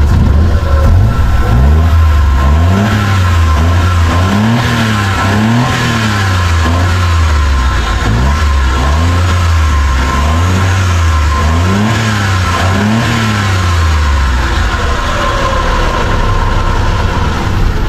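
A Suzuki car with an overheating problem is revved repeatedly, its engine climbing and dropping in about six regular surges over a steady idle, loud and close, with no talk.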